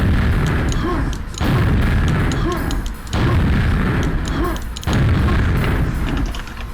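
Impulse 9 weapon in a video game fired at a wall: loud, dense booming blasts in sustained bursts, each roughly a second and a half long, separated by brief pauses, with no talk over them.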